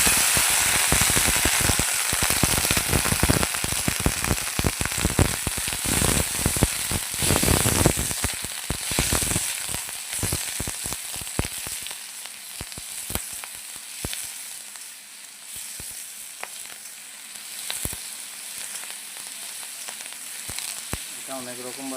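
Fried onions are stirred into a sizzling fish curry with mustard, and a loud, dense frying hiss with rapid crackles fades to a quieter sizzle with scattered pops.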